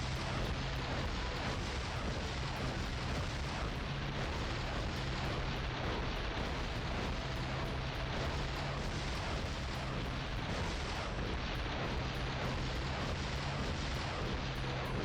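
Rocket launcher fire and explosions in the 007 Tomorrow Never Dies PlayStation game: a continuous loud roar of blasts and rumbling detonations with a low steady hum underneath.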